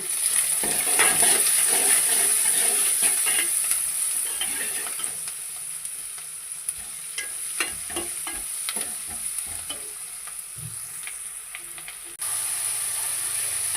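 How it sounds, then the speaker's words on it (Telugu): Onions fry steadily in a pan for a Telugu okra and egg curry, a continuous loud sizzle with frequent stirring scrapes and clinks running throughout, no voices. "ఆనియన్స్ అయితే మంచిగా వేగాను"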